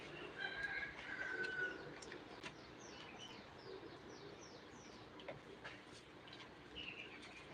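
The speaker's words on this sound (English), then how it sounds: "you can hear a bird, a rooster, or a dog together with the vehicles" Birds chirp and call outdoors over a steady low rumble of distant traffic, with a brief whistling call early on; faint, scattered chirps throughout.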